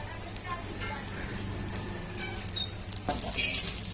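Dry bombil (Bombay duck) for chutney crackles and sizzles in a pan while being sautéed, a close, dense frying hiss with occasional scraping stirs that grows a little louder toward the end.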